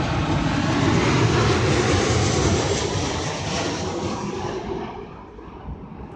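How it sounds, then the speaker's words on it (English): An airplane passes overhead as a loud, broad roaring engine rumble that swells, holds steady and then slowly fades away outdoors, with no talking. "airplane"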